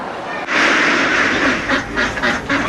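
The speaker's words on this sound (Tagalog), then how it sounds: "Kahit putak ng putak ang mga itik na tila laging ibinibida ang kanilang sarili" Domestic ducks quack loudly and continuously close by, a dense overlapping chorus of harsh nasal calls with several birds sounding at once and no speech.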